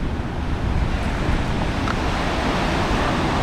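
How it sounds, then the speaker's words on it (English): Ocean breakers at Pensacola beach make a constant broad rush of surf mixed with wind buffeting the microphone, loud and unbroken, with no voices. "There's some pretty good breakers out there."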